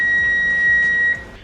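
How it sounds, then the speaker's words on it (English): Kitchen timer beeping while meat cooks on the stove, a steady high electronic tone held for about a second before cutting off, close and clear over faint background hiss. "if you heard that beep, that was my timer telling me that my meat is done."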